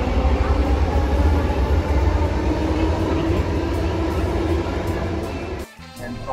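A metro train at MG Road station in Bangalore rumbles loudly and steadily close by, a broad continuous roar that dips briefly near the end before picking up again.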